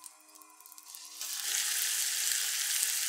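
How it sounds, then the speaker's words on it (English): Pork tenderloin hits bubbling butter in a hot pan, starting with a soft crackle and swelling after about a second into a loud, steady sizzle that holds to the end, with no voices. "add the pork to the pan once the butter begins to bubble"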